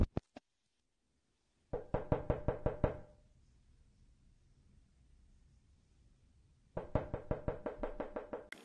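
Knocking on a front door: a few quick raps, then a run of about eight firm knocks, a quiet pause, and another equally loud series of knocks.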